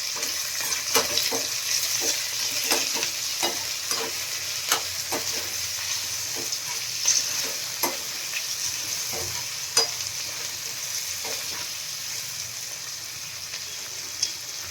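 Sliced okra frying in a pan with salt and turmeric, cooking toward crispness: a constant bright sizzle broken by frequent sharp scraping stirs of the spatula, close and loud, with no voices.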